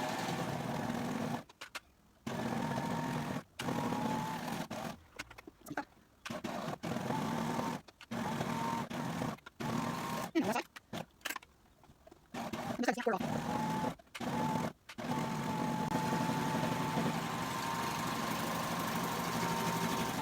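A serger sewing machine stitches in loud motor-driven bursts, a fast steady whirring chatter that starts and stops repeatedly in short runs before one longer continuous run at the end, with speech between bursts.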